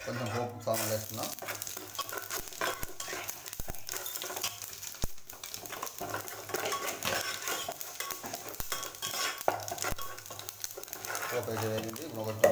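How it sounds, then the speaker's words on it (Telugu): Tempering spices fry in oil for mango dal, a steady, dense sizzle with occasional utensil taps, and a voice briefly heard near the start and end. "కొంచెం పోపు సామాన్ వేస్తున్నా"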